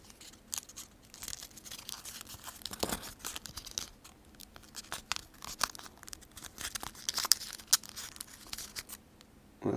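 Paper for an origami snake is folded and creased by hand, close crinkling and rustling with sharp papery snaps in irregular bursts, fairly quiet and without talk.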